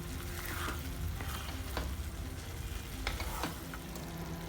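Dried fish thokku fries and sizzles in a pan with a little added water, crackling continuously while a spoon scrapes and stirs it in several distinct strokes, close up and with no speech.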